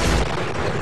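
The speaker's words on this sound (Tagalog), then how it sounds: "Malalakas na pagsabog at walang tigil na putukan ang umalingaw-ngaw sa Tripoli sa ikatlong gabi ng pagsalakay ng Allied Forces sa Libya" Heavy explosions and gunfire echo through Tripoli, Libya, on a night of Allied air strikes, heard as a loud, dense rumble of booms and bursts with no voices over it.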